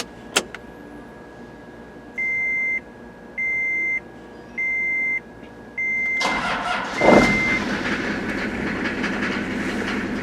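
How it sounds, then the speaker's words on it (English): A truck starts up after four evenly spaced warning chimes from the cab, its engine catching with a burst of cranking and then settling into a steady idle. "now you're going to want to get back in the truck and start the engine"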